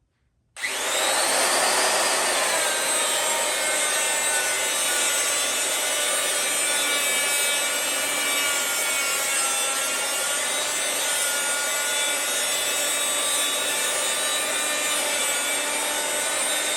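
An angle grinder grinds a metal part while fitting disc brakes to a 1960 Chevrolet Bel Air, a loud, steady high-pitched whine that starts abruptly and runs continuously close to the microphone.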